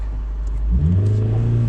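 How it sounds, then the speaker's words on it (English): A cold Honda car engine idles steadily at a low, uneven rumble, close and fairly loud, with a brief rise in pitch partway through as it settles. "actually, it's idling lower. It used to idle higher."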